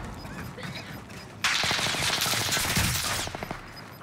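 Automatic gunfire in the battle royale game Warzone on Rebirth Island: a sustained, rapid rattling burst of close shots lasting nearly two seconds, then a few trailing cracks, loud over faint background game noise.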